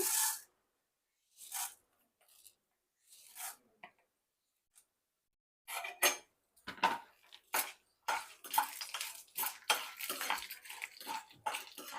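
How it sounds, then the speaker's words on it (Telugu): Chana dal and urad dal dry roasting in a pan, stirred over medium flame: scattered dry scraping and rattling bursts, sparse at first and then denser and more continuous, close and fairly quiet. "దోరగా వేయించుకోవాలండి ఇలా కలుపుకుంటూ ఉండాలి కాస్త మీడియం ఫ్లేమ్లో పెట్టుకోవాలి"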